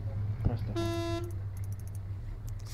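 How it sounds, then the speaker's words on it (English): A Humvee horn in Arma 3 gives one short, bright honk. Low engine rumble runs underneath, with a brief thump just before the honk and a few faint clicks after it. "And just honk them."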